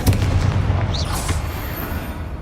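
Explosive Bombarda and Confringo spells going off in Hogwarts Legacy, a loud booming blast with a crackling, whooshing tail that fades out over a couple of seconds.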